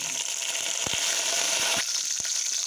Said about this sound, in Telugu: ఆనియన్ ఇంకొంచెం ఫ్రై అవ్వనివ్వాలి